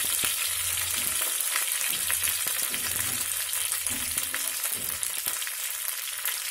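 Plenty of garlic fries in hot oil with a tempering of urad dal, curry leaves and dried red chillies for an amaranth-leaf stir-fry, giving a continuous close sizzle with faint crackles and occasional stirring knocks.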